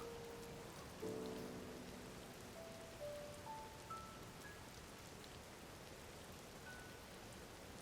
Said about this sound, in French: Oh la satanée pluie.